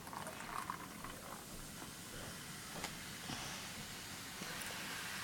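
A baking soda volcano erupting, giving a faint, steady fizzing and bubbling hiss that continues evenly with a few small pops.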